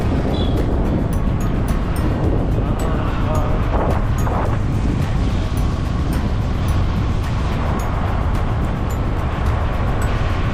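Steady wind blows across the microphone outdoors in the Yercaud hills, a constant loud rumble with a faint wash of distant background noise and no clear talk.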